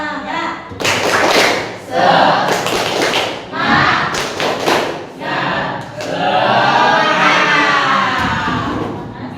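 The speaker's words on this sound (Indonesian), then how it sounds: "Ayo kita mulai melakukan tepuk semangat." Schoolchildren in a classroom perform the tepuk semangat clapping routine: bursts of sharp, rhythmic group claps and thuds mixed with loud children's chanting voices, running nearly continuously.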